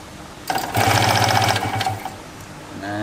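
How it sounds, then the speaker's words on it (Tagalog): Electric starter cranking a Yamaha DT125 two-stroke motorcycle engine, a fast mechanical whirring buzz that starts abruptly, runs steadily for about a second and a half, then winds down, close and loud with no voices. "kayang-kayang paikutin itong DT 2-stroke"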